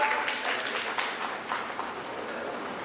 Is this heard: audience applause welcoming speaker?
yes